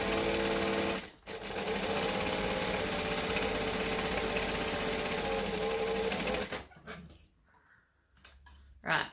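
A sewing machine runs steadily at close range, basting a seam on a fabric laptop sleeve, then stops after about six seconds, leaving quiet handling noises and a few clicks.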